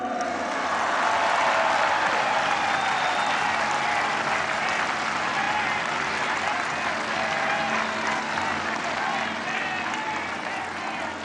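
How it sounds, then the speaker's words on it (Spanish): A large crowd at a presidential speech celebrating four years in office breaks into sustained applause, a loud, dense roar of clapping with some cheering that holds steady for about eleven seconds before easing slightly. "Otro aplauso."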